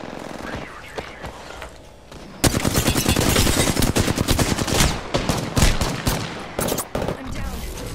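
Heavy automatic gunfire from the Apex Legends battle royale video game, with dense rapid bursts that start abruptly partway in and keep hammering loudly and close, while quieter game sounds and a voice come before it.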